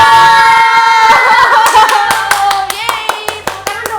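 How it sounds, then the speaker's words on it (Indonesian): Children at an online Sunday worship service clap their hands in sharp, uneven bursts that grow busier after a moment, mixed with sung or spoken voices and tonal music. "Tepuk tangan yang meriah, lebih lagi"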